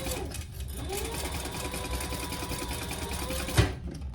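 A sewing machine basting a zipper panel in place on a small sling bag, running in a steady, close mechanical whir throughout, ending with a short clunk.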